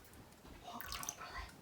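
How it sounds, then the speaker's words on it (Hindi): Vinegar water is poured little by little into milk to make chhena for chum chum, giving soft, close, irregular splashes and trickles at a low level. "अब ये जो हमने विनीगर वाला पानी रेडी किया है, थोड़ा थोड़ा करते हुए हमने दूध पर डालते जाना है"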